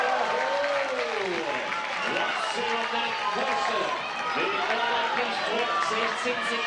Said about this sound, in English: Crowd is going mental out there